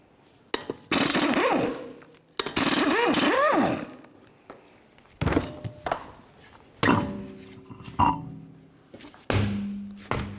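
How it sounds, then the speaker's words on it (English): Lug nuts coming off the wheel of a 2014-2020 Nissan Rogue, with sharp bursts of an impact wrench whirring and winding down, followed by metallic clinks and thunks as the nuts and wheel are removed. "let's remove all 5 of our lug nuts and then the wheel"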